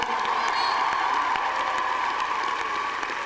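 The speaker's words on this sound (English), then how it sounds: "Everybody give Jesus a clap of praise this morning." A church youth conference congregation claps in praise while a steady sung or held tone carries over the crowd, with scattered cheering in the background.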